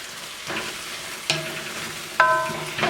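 Eggplant and cilantro are stir-fried in a hot pan, giving a soft sizzle broken by a few sharp utensil scrapes and clinks as the food is tossed, close and quiet with no talking.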